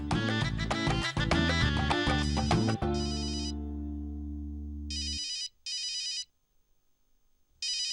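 A mobile phone ringtone plays loudly as a melodic tune, then cuts to short repeated bright beeping bursts separated by silence, heard alone without speech.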